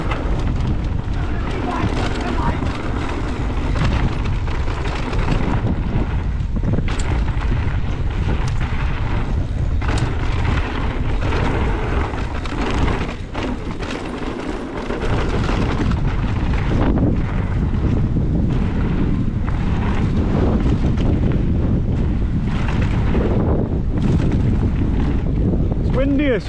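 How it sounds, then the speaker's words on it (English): Strong high wind buffeting the microphone on a dirt bike trail while riding an Orbea e-bike, continuous loud roaring gusts with brief lulls, and a voice talking over it. "Windy as fuck."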